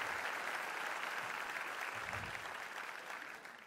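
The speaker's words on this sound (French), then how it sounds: "je pense qu'ils méritent une bonne main d'applaudissement" Applause from the audience at a live show performance, a steady, moderately faint wash of many hands clapping that holds evenly and then slowly fades.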